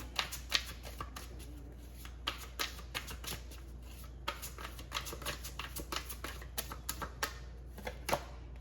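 Tarot cards being shuffled and drawn, with soft sliding rustles broken by repeated sharp card snaps and flicks at an irregular pace, close and fairly quiet with no talking.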